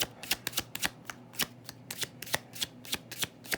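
Tarot cards are shuffled and drawn in quick, crisp bursts of riffling and slapping, a dozen or so sharp card sounds in an irregular rhythm, close and clear with no talking.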